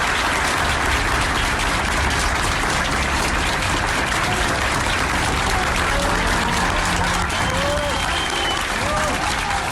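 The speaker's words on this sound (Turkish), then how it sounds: "uzman çavuşu polis otosuna binip uzaklaşana kadar alkışlayarak protesto etti" Hospital doctors and health workers applaud in protest as a detained army sergeant who assaulted a doctor is escorted out to a police car; steady crowd clapping runs throughout, mixed with voices and murmuring.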